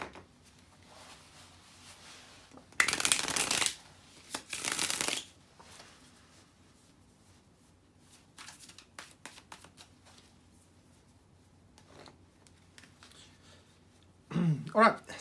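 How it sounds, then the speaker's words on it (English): Tarot cards shuffled by hand during a general weekly reading, heard as two close, crisp riffling bursts, a few softer handling sounds, and a final short flurry, with quiet room tone between and no talking. "let me shuffle the cards"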